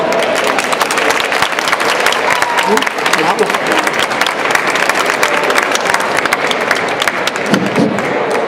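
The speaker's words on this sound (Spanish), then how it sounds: "Un gran aplauso, por favor, repetir un aplauso porque esto ha sonado a poco" An audience at a presentation gives loud, continuous applause, a thick even wash of many hands clapping that holds steady, with faint voices beneath.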